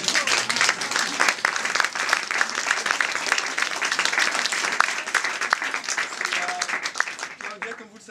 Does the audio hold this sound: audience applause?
yes